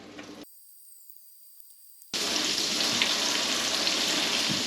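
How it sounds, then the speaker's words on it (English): Panfish fillets dropped into a frying pan: a brief quiet gap, then a sudden loud, steady sizzle of oil that keeps going close up. "And right into the frying pan."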